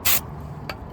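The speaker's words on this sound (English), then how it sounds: "You just want to do a quick spray down." Brake cleaner sprayed in a short, loud hissing burst onto the brake parts of a 2020 Mustang GT, followed by a second, much briefer and fainter spritz.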